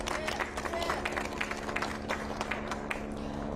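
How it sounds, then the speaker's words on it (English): A crowd at a Monterey Park community gathering claps in a fairly faint, scattered round of applause, with individual claps audible over a low steady background hum. "a big round of applause"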